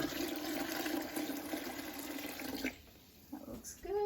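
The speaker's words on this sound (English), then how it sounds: "I need to adjust the water level a little bit. You want about 2 inches in the bottom of the pot." Water running from a tap into a canning pot for diced tomatoes, a steady rushing pour that stops partway, leaving a few small clinks and splashes in a quiet kitchen.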